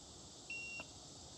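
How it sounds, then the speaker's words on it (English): One short electronic beep from an ePropulsion electric outboard motor powering on after its button is held, a steady high tone lasting about a third of a second, over faint background hiss. "I had to hold the button in for a couple seconds before it beeps"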